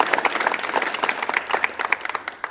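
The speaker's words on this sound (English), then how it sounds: "I think it's a good time to give a round of applause." An audience at a startup demo day event claps in a moderate round of applause, with distinct individual claps audible through the crowd.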